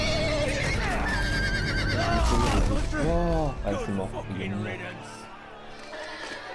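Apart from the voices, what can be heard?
horse neighing in Game of Thrones video game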